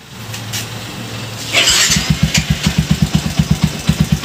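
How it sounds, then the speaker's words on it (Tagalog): A tuned motorcycle engine with a 62 mm bore, cams and headwork cranks over and catches, then settles into a loud, close, lumpy idle with a steady pulsing beat. "ang una-una natin titignan is kung mag-aandar yung motor ng maganda sa idle"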